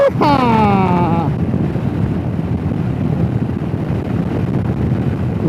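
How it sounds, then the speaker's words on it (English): Steady wind rushes and buffets the microphone during a Royal Enfield Himalayan motorcycle ride along the Kielder Forest Drive, a constant loud roar, with a brief whooping voice at the start. "Now it's windy again now."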